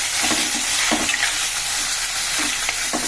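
A pot of okra tamarind stew (bendakaya pulusu) is stirred with a utensil, giving a steady bubbling sizzle broken by a few scraping strokes against the pan, close up and with no talking.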